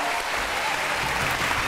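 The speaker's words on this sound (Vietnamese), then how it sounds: "Và một tràng pháo tay dành cho hai bạn" Studio audience applauding two contestants, a group and a solo singer, on a Vietnamese TV singing competition; dense, steady clapping throughout, loud and close, with no pause.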